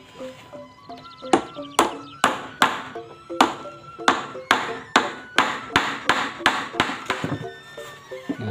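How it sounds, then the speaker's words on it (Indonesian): Hammer blows drive nails to mount an LED strip light for a decorative glass aquarium lamp, about fifteen sharp, fairly close strikes falling in a steady rhythm with a faint tone ringing underneath. "Jadi kita paku dulu di sini."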